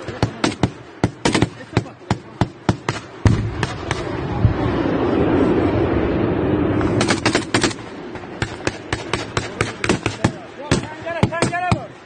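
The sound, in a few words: gunfire in a firefight between soldiers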